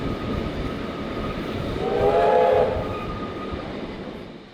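A push-pull passenger train with K190 and K153 locomotives and wooden-bodied carriages rumbles steadily nearby, a low rolling roar that swells briefly in the middle with a faint tonal whine before easing off.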